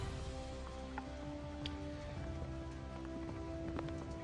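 Afternoon rain falls at Raisina Hill in New Delhi, making a steady, dense hiss of drops on surfaces beneath a low, constant hum, with no voices.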